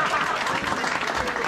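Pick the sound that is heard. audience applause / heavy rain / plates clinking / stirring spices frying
audience applause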